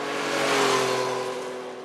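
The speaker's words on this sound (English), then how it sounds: "And the exhaust note, the exhaust is right by your foot there. It's kind of pleasing, a little bit snarly" A Yamaha FZ-09 motorcycle's exhaust note rises and falls through a single snarly rev, a steady close engine tone lasting a couple of seconds with no talking.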